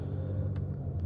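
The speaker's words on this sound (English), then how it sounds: "the mail truck blew the red light" A mail truck rolls through a red light near a rickshaw heading into Gettysburg, Pennsylvania, heard as a low, steady engine rumble close by, brief and unbroken with no voices.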